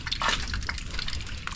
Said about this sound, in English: So this is how it looks like when it rains.